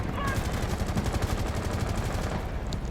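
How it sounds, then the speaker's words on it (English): Dense, continuous rapid gunfire crackles without a break, loud and close, like sustained automatic shooting in the game Rainbow Six Siege during a competitive match. "A lot of gunfire going out on windows."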